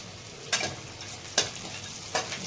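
Onion and peanuts with a little turmeric sautéing in ghee for upma, a soft steady sizzle broken by three spaced stirring scrapes of a spatula in the pan.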